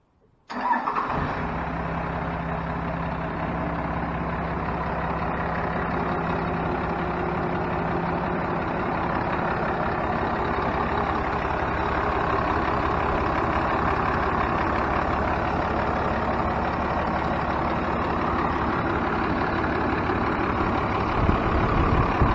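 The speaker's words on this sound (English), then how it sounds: "and then we can start the truck now." Diesel truck with a P7100 injection pump fires up quickly and settles into a loud, steady idle that runs on unbroken, close to the engine.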